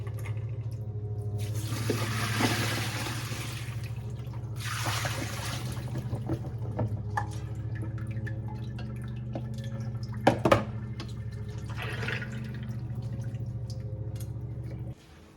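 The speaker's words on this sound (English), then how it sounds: "So after we drain our green beans" Water from blanched green beans drains and drips through a strainer in a kitchen sink, with scattered trickles and a few sharp clinks over a steady low background hum, fairly close.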